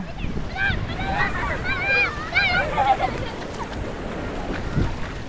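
Waves wash steadily onto a beach near Thrissur, a broad continuous surf roar with wind buffeting the microphone, while voices talk over it through the first half.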